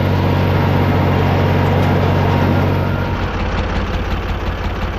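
A farm tractor's engine runs at a steady idle during haymaking, a loud, close, continuous rumble that drops slightly in the second half.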